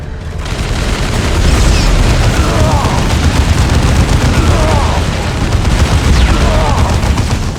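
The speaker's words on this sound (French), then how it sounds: "Je reçois des tirs ennemis." Gunfire and explosions fill a Dawn of War 2 battle with a loud, constant barrage of shots and booms that never lets up, with no talking.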